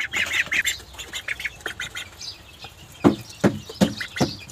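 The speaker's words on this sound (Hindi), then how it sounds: "अभी बत्तखें थोड़ी बड़ी हो गई हैं ना, अभी खा लेती हैं दाने" Several farmyard ducks quack in a village while being fed grain, giving loud, uneven squawking bursts that come closer together and grow punchier toward the end.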